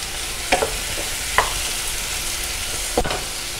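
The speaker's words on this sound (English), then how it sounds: "My butter is nicely melted, so I'm adding in my blanched carrots" Blanched carrots sizzling in melted butter in a pan, a steady close fry hiss broken by a few sharp stirring clinks and scrapes, with no talking.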